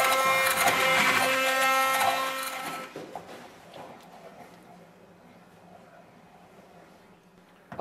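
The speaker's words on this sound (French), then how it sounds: "Et nous allons mixer pour réaliser un coulis." A blender purées vegetables with a little water into a coulis for a ratatouille, running loud and whirring for about three seconds before cutting off, leaving quiet rattling and handling noises.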